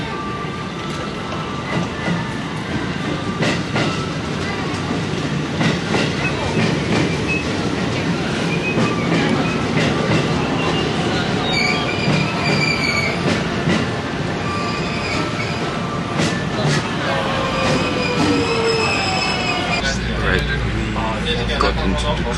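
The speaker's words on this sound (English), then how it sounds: "Got into the train," Steady rumble of a moving train heard from inside a carriage in Kyoto, with rattling, occasional high wheel squeal, and background chatter of passengers.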